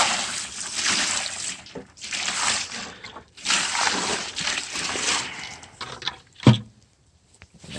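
Clean water is poured and sloshed over dehusked English walnuts in several splashy bursts with short pauses between them, fairly close and moderately loud, ending with a single sharper knock.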